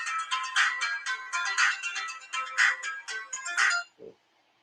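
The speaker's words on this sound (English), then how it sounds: "That was a phone call." A phone ringtone trills in repeated bright bursts for about four seconds, loud and close with no talk over it, then stops with a short low thump.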